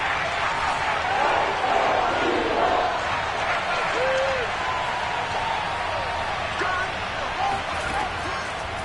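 Stadium crowd noise in the American football video game Madden during a big third down, a steady dense roar of cheering that holds throughout with a few brief whistle-like accents.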